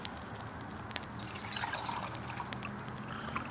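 Water splashes and trickles steadily into a GSI bottle cup at close range for a few seconds, about three-quarters of a cup poured, with scattered drips throughout.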